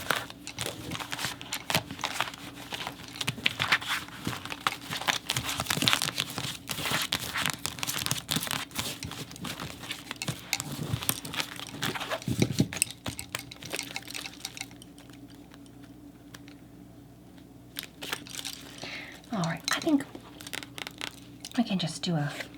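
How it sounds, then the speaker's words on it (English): Tarot cards being shuffled in a quiet ASMR setting, a long run of crisp riffling, flicking and papery crinkling in close, soft bursts, with a brief quieter pause before more shuffling resumes. "Let me just really shuffle this up."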